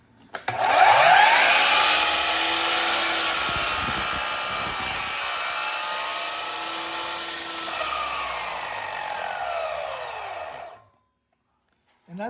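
Sanding a small scrap wood piece with a power sander, a loud steady whirring rasp that holds for about ten seconds before cutting off, with no talk over it.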